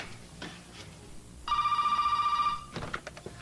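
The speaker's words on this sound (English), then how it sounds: "there's a deleted scene here where the phone actually rings" A telephone rings once in a TV scene, a steady electronic trill lasting about a second over quiet room noise, with faint sounds before and after.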